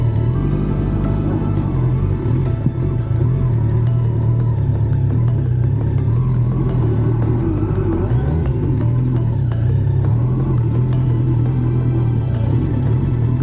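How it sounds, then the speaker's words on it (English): A motorcycle stuck in mud on a village track in Kenya revs hard and steadily, a loud, close, continuous engine roar with small rises in pitch as the throttle is held open. "You give it a lot more gas."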